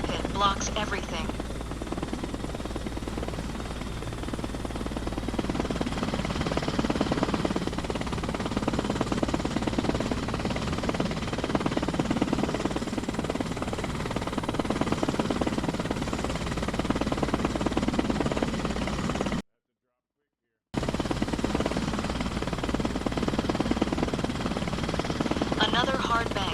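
In the Arma Reforger game, a Hind attack helicopter flies and banks hard with a steady, loud rotor thrum and turbine whine that pulses as it turns and shakes, and a brief dropout partway through.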